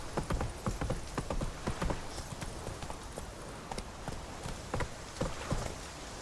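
Roach gallops in The Witcher 3: Wild Hunt on PS4 Pro, and the hooves beat a fast, uneven rhythm of sharp clops, close and clear, over low ambient game sound.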